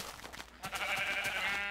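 Sheep in Minecraft bleat in a few short, wavering calls, close and fairly clear, with no talk over them.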